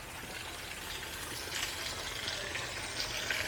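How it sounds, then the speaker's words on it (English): Steady rushing water, a broadband wash of a waterfall pouring continuously at moderate distance, with no voices, in Cozumel, Mexico. "There's a waterfall in here."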